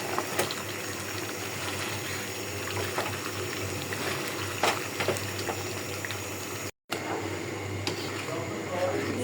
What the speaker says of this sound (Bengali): আর মাংস বলক উঠে গেছে